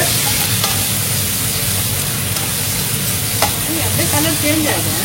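Finely cut liver sizzles and crackles in a hot pan in a home kitchen, with a spatula scraping and stirring now and then, steady and close.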